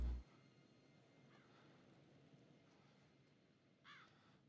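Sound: crow cawing in the video game The Devil in Me

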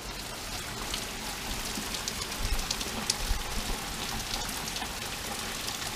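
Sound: heavy rain falling

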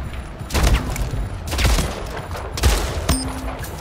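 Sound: shotgun gunfire in a video game

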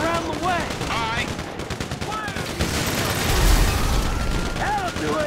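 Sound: gunfire in video game Grand Theft Auto 5

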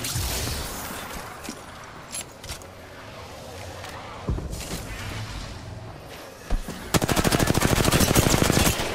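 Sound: gunfire from the video game Apex Legends

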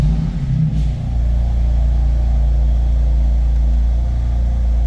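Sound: BMW M4 Competition engine starting with push button

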